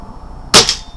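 A BSA R10 Mk2 air rifle fires a sub-12 ft-lb slug: one sharp, loud, close crack with a brief trailing ring, alone against faint background hiss.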